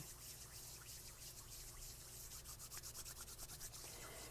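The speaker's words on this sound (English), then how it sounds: "if you bring your hands together and rub them together" Palms rubbing briskly together, a soft close dry swishing friction that grows into rhythmic back-and-forth strokes toward the end, quiet and alone without talk.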